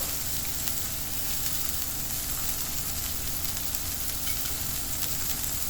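Broccoli florets fry in oil on a tava over high flame, seasoned with Italian seasoning, salt and pepper, giving a steady, close, continuous sizzle with no talk over it.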